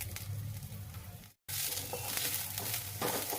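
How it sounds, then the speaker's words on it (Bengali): Rice grains frying in a pan, giving a steady, soft sizzle with light stirring and scraping, alone and fairly quiet, with a brief gap midway. "এদিকে চালটাকে একটু ভেজে নিই"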